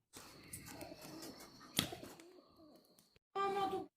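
A pigeon coos in soft low throaty bursts, with a sharp click partway through and a louder voiced call near the end, set against quiet background noise.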